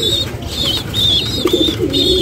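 Pigeons in a household pigeon loft coo and call repeatedly, with a steady higher-pitched peeping running through, under a constant noisy background.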